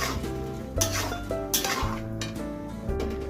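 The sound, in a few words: white sauce pasta being mixed in a pan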